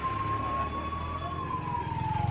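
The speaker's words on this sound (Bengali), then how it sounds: "সবার আগে সাইড দেওয়া উচিত অ্যাম্বুলেন্সকে" Ambulance siren wailing steadily at a crossroads in Katwa town traffic, loud and fairly close, with a slow falling pitch over engine rumble.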